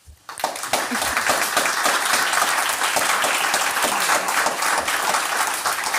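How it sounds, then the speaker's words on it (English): An audience at a design event gives the designers a last round of applause, which starts abruptly and grows into a loud, dense, sustained clapping that keeps an even level to the end. "I would like one last round of applause for our designers"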